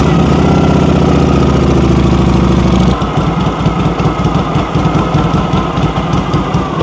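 A 1966 Harley-Davidson FLH Shovelhead motorcycle runs loud and close with a deep, steady engine note that shifts about three seconds in into a choppy, pulsing rumble as it gets under way.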